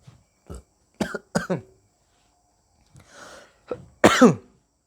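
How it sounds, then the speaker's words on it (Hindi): Several short coughs and throat-clearing bursts come in uneven clusters, close and fairly loud, with pauses and a rough breathy rasp between them. "देखिए तबीयत अंदर से कुछ ठीक नहीं है, क्योंकि खांसी का समय आ गया है।"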